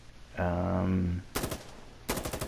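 Automatic rifle fire in Insurgency Sandstorm, two rapid bursts of close, loud gunshots near the end, following a short spoken phrase.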